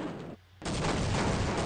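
Gunfire in Half-Life rattles in loud, dense bursts that break off for a moment and then resume as a continuous close barrage, with no voices over it.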